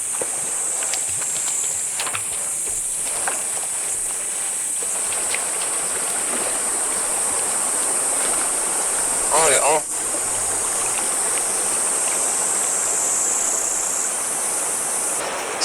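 Steady stream water flows by a rural creekside while a bamboo rat is washed, a continuous near rushing with high insect chirring above and a brief splash partway through.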